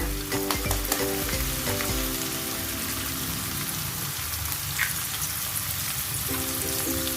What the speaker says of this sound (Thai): พอแตงกวาของเราใสแล้วนิ่มแล้วนะคะ เราใส่ไข่ลงไปเลยค่ะ